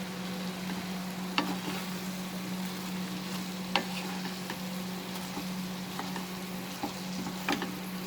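Bitter gourd sautéing in a pan on a medium-high flame, a steady close sizzle with a constant hum underneath and a few scattered sharp clinks of stirring.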